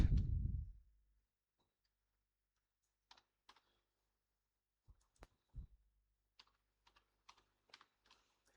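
A computer keyboard tapped in sparse, quiet bursts of individual clicks with long gaps of near silence, after a brief low rumble at the start.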